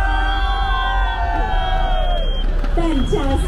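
A crowd at the Purple Parade community event in Singapore cheers and whoops together in a loud, mixed burst with shouting voices rising toward the end.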